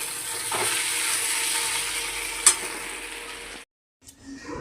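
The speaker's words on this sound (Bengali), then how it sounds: "আলু পেঁয়াজটা লঙ্কাটা ভেজে নিচ্ছি" Potatoes, onions and chillies frying in a pan make a loud, continuous sizzle with one sharp clink partway through, then the sizzle cuts off abruptly and only faint clatter follows.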